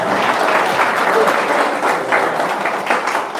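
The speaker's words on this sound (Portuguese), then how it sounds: "Vamos dar um lindo aplauso ao Senhor" A church congregation applauds steadily. Dense, even clapping from the crowd fills the whole moment at close range.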